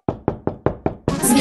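Five sharp, evenly spaced knocks on a door ring out close and clear, followed by a burst of broader noise as the knocking ends.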